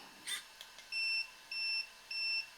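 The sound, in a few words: three beeps from RC car electronics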